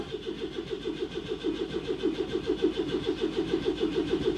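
An engine cranks over steadily at about 150 to 200 RPM with no oil pressure yet, a rapid rhythmic churning pulse repeating evenly for several seconds at close range.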